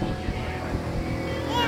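A motorboat engine drones steadily at a Thai fish farm restaurant, a close, rumbling hum with water and wind noise, while voices talk over it.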